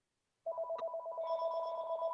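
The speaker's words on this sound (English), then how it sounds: "Just then the phone rang." A telephone rings in a quiet meeting room, a single sustained electronic ringtone that starts abruptly and carries on steadily, fairly faint and with no talk over it.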